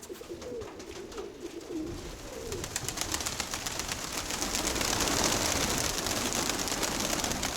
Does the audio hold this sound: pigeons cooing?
yes